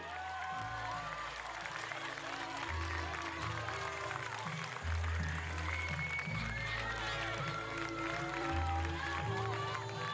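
Audience applause and cheering fill the hall at the Miss Tahiti 2008 pageant, dense steady clapping from a crowd over music with a low rhythmic bass line.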